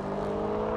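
V8 cars launching side by side in a drag race, including a Mercedes AMG C63, BMW M3 and Audi RS4, a loud sustained engine roar with steady droning tone throughout the short burst.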